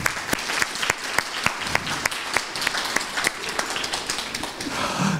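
A lecture audience applauds the projector technician at a 15x4 science talk event, a loud sustained burst of clapping from many hands filling the room, with no speech over it.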